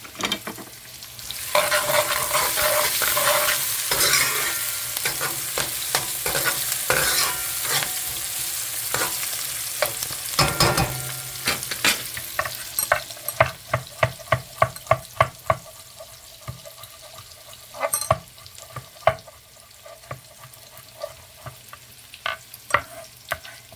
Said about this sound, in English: So the onion is getting a little brown.